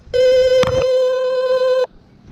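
A UEI gas leak tester sounds its alarm with one loud, steady electronic tone that holds for almost two seconds, briefly overlapped by a short knock, and then cuts off abruptly.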